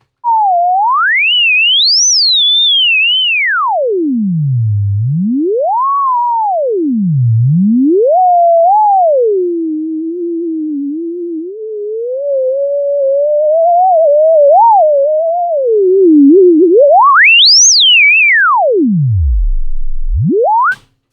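A webcam-controlled theremin patch built in Pd-L2Ork plays one continuous loud electronic tone for about twenty seconds, gliding up and down in pitch with deep swoops and a wavering middle stretch, and no voice over it.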